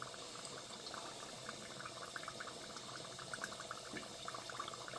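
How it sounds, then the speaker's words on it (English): Corned beef egg rolls deep frying in 400-degree hot oil on a second fry, a steady close bubbling sizzle with a fine crackle running evenly throughout, no voices. "now we're going to go in for the second fry. We've got a hot oil now."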